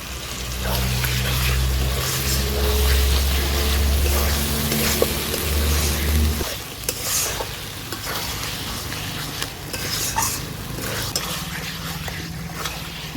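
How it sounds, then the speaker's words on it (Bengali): Chicken with spices frying in a pan after a splash of water, giving a steady loud sizzle with stirring scrapes; a low hum fades out partway through, leaving the bubbling crackle alone. "এবার আস্তে আস্তে জাল দিয়ে চিকেনটাকে ভালো করে কষিয়ে নিতে হবে।"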